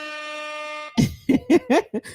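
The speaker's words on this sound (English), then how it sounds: "I'm gonna air horn that." A short, loud, steady horn blast, followed by a quick burst of rhythmic pulses.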